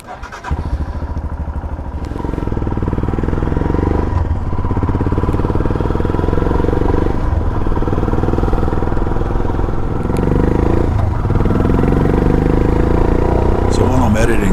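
A Royal Enfield Himalayan motorcycle (2023) fitted with a tall windscreen rides along a street, its steady mid-pitched engine drone and road rumble loud and continuous after a brief quieter start.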